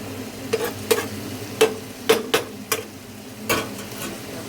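Chicken being fried with masala in a pan, heard as a handful of sharp, uneven stirring and scraping strokes over a low background sizzle, with no talking.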